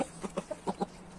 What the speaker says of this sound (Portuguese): Aqui tá meu franguinho preto